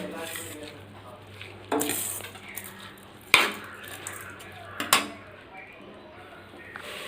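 Rice being stirred and sautéed with salt in a pan for coconut milk rice, with a few sharp scraping clinks of a spoon against the pan over a low, steady background.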